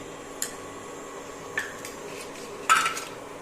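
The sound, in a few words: spoon of ghee added to heated pan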